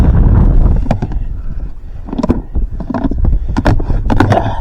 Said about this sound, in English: Windy today. But it's been windy.